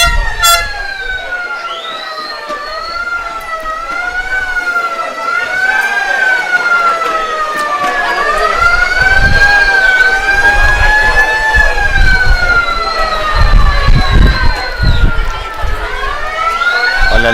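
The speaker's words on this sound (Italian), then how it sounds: "Sirena di allarme messa dai tifosi del tutta vista Caltellini." A loud wailing alarm siren sounded by fans at an amateur football match in Sardinia rises and falls in long sweeping cycles, with crowd noise and a commentator's voice beneath.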